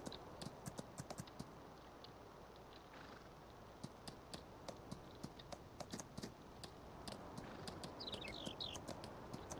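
Horse hooves clip-clop steadily in Farming Simulator 19 as a horse pulling a trailer is ridden around a farm, the sharp quick steps repeating throughout at a moderate, even level.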